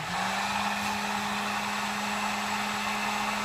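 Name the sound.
heat gun shrinking heat shrink tubing on mask cord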